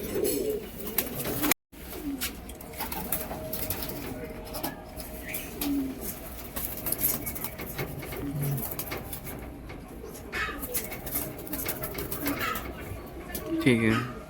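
Kalanka pigeons at a pigeon sale coo softly in low, throaty bursts, with a person talking nearby and some background shuffling.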